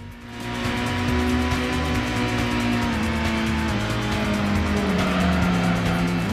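Race cars from the PlayStation game Gran Turismo drone at a steady, loud engine pitch with shifting gears and tire squeal, continuous and close throughout.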